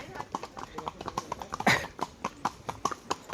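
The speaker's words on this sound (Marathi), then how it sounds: "आपण निघालोय घोड्यावरून." Horse hooves clip-clop in a quick, even rhythm during a horseback ride at a monsoon hill station in Maharashtra, close and clear with a brief rustle midway.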